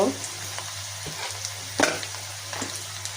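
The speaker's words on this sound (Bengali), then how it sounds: "এখন চিংড়ি মাছ ভেজে নিলাম পেঁয়াজের মধ্যে দিয়ে" Shrimp fry with onion in a pan, a steady sizzle broken by a few sharp stirring scrapes and spatters, close and fairly quiet.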